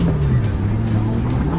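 A Corvette floored during a police chase: a loud, steady engine roar with a sustained low drone holding for under two seconds, mixed with broad road and wind noise.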